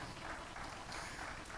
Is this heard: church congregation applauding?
yes